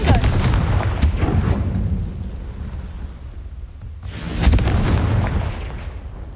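Confringo fire spell explosions in Hogwarts Legacy: a loud blast rolls out at the start and fades over a couple of seconds, then a second heavy burst hits near the end.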